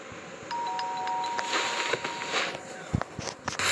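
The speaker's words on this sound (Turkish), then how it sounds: "Zil çalalım." A doorbell rings with a long sustained electronic tone, followed by footsteps and small rustling sounds close by.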